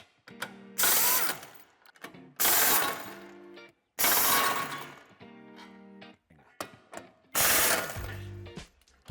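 A hand ratchet loosens the bolts on the metal bumper reinforcement of a 2017-2020 Volkswagen Golf VII Variant, giving four loud, close bursts of rapid clicking with short pauses between them.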